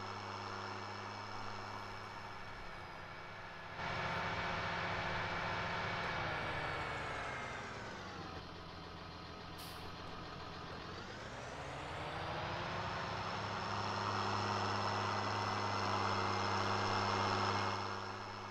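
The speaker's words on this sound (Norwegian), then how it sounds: "likte den duren som var i den traktoren her" Tractor engine idling in Farming Simulator 2019, a steady low rumble with layered harmonic drone that dips and swells in pitch as revs shift, heard alone and fairly loud throughout.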